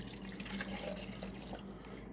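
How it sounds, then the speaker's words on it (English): Water runs steadily into the 240 ml tank of an unplugged Hilife 700W portable handheld clothes steamer, a soft continuous trickle close by with no voices. "So, we'll fill the tank here."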